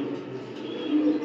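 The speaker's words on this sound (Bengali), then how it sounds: "খুব ভালো একটা কবুতর" A domestic pigeon coos softly and steadily, a low close murmuring call with no talk over it.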